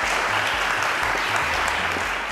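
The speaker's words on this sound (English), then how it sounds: "A round of applause, guys" Steady applause from a studio audience at a televised quiz show, dense and continuous from start to finish with no voices over it.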